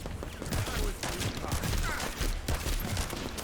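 Rapid gunfire in the sci-fi shooter The First Descendant, a steady stream of loud shots with explosions and combat clatter, no clearly separate sniper rifle reports.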